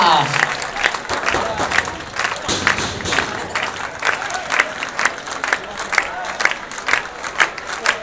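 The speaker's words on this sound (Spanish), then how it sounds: "Pidiendo palmas a rueda, claro, calentando el espectáculo." A crowd at a bull-cutting contest claps in rhythm, a loud, steady beat of many hands with voices shouting and cheering over it.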